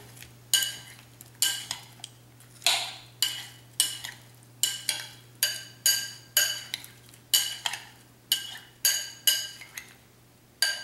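Vegetable succotash being gently tossed in a bowl, a series of regular scraping, clinking strokes of a utensil against the dish, close and fairly loud, with a steady low hum underneath and no talk.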